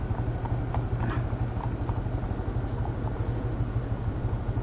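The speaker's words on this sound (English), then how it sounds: "stop, turn the engine off, let them get past" Horses pass on a road near Kington on the A65 while a stopped vehicle's engine is switched off, their hooves clip-clopping in a steady rhythm over a constant low rumbling noise that persists throughout.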